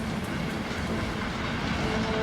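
A train rolling along a railway, a dense continuous rumble of wheels and cars with faint clickety-clack, loud and steady throughout with no voices.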